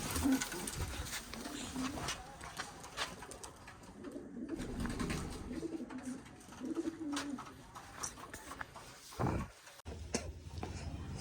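Pigeons coo repeatedly in low, throaty rolling phrases, close by, over a steady background of rustling and other bird calls.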